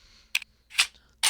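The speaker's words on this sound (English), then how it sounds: "I'm going to press R to reload" A Colt M1911 .45 pistol is reloaded in Minecraft's Flan's Mod, heard as three sharp mechanical clicks and clacks spaced apart in a short burst, crisp and close with quiet gaps between.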